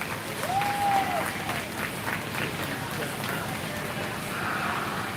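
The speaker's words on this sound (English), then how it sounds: "Now, I give Maddox a round of applause today" Spectators at a 4-H and FFA swine show at a county fair give a round of applause, moderate steady clapping heard amid arena noise, with a brief whistle-like tone near the start.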